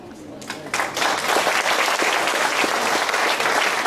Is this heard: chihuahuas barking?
no